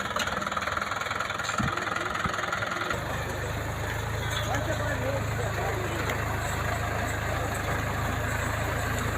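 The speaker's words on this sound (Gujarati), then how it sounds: "મગફળી પહેરી રહ્યું છે ટ્રેક્ટર" A tractor engine drones steadily at close range while sowing peanuts in a field, a low, even mechanical rumble that thickens after a few seconds and carries on without a break.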